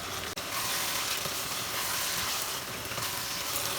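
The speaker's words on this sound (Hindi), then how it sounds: "मैं इसमें मैरिनेटेड मटन ऐड कर रही हूँ। फ्लेम अभी भी मैंने हाई पे ही रखा है।" Marinated mutton with salt sizzling in a hot pan over a high flame, a loud, continuous broadband fry that stays steady throughout, with one brief clink near the start.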